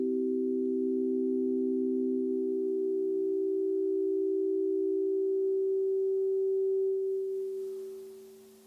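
Crystal Vibes crystal singing bowls triggered through a Musical Mushroom give one pure, sustained tone that hums steadily for several seconds, then fades softly at the end with no voice present.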